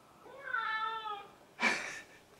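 A cat gives one drawn-out meow, then a short sharper second cry about a second later, close and clear against a quiet room.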